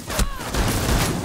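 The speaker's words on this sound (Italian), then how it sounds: "Ma che cazzo spara, Dark Knight?" Sustained automatic gunfire from a Rainbow Six Siege match, a loud, dense burst of rapid shots rolling continuously with a brief gap near the start and heavier low thuds toward the end.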